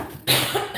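A woman gives a single sharp cough, close and loud, breaking into a live ladies' Bible study reading, with a faint murmur before it.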